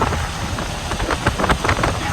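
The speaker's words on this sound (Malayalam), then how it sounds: "ഈ മഴയിൽ ചെറിയൊരു ചാറ്റലൊക്കെ കഴിച്ച് ഇങ്ങനെ ഓടിക്കാൻ ഭയങ്കര വൈവാണ്" Light rain drizzles on a jeep while it is being driven, a dense, close patter of drops with irregular louder taps over a low rumble.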